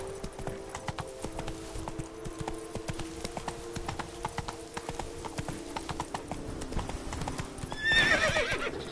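A horse gallops in The Witcher 3: Blood and Wine, its quick, even hoofbeats pounding close over a soft musical backdrop, with a sharp whinny rising near the end.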